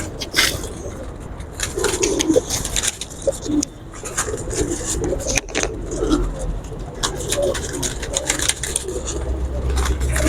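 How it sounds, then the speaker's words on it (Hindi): Pigeons coo repeatedly nearby, soft throaty calls over a busy outdoor background with traffic hum and scattered bumps, no speech. "ये बिल्कुल वेटलेस कबूतर है माशाल्लाह"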